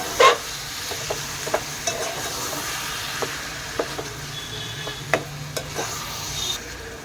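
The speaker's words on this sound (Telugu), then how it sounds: "టమాటా వేసుకొని ఒకసారి బాగా కలుపుకోవాలి" Tomatoes stirred into a hot frying pan, a steady soft sizzle with a spoon scraping and tapping the pan at irregular intervals, close and fairly quiet.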